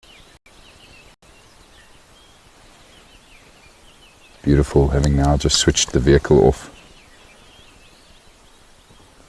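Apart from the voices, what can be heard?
birds' dawn morning chorus on safari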